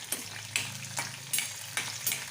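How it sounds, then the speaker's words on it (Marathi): Chopped green chilies and curry leaves frying in oil for upma, a close sizzle broken by several sharp scraping stirs of a spoon against the pan at a roughly regular pace. "आणि मिरची पण आपल्याला चांगली फ्राय करून घ्यायची"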